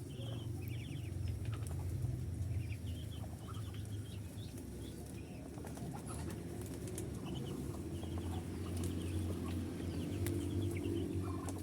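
Muscovy ducks on a farm wait for their morning feed, a constant low murmur of fowl calls and soft chatter with occasional wing flaps and higher calls, fairly quiet and continuous, no voices.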